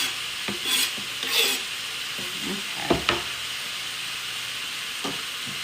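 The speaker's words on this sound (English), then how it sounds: "A nice stir." Chicken is being tossed and stirred to coat it in seasoning, giving a few soft scraping and rustling strokes at irregular moments over a low kitchen background hiss.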